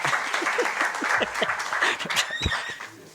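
Audience at an ethics seminar clapping, with a dense spread of individual claps, a few sharp ones standing out, and a brief voice mixed in.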